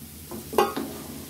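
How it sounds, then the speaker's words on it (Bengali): Potatoes frying in a generous amount of hot oil, a soft sizzle with a couple of brief stirring clinks and scrapes close by. "আমি আলুটা একটু ভেজে নিই।"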